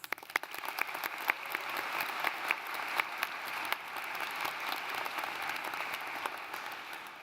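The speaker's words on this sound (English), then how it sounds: "I think you all deserve a round of applause." Graduation audience at a London undergraduate commencement ceremony breaks into sustained applause, dense clapping from a large crowd that swells quickly and holds steady for several seconds without talk.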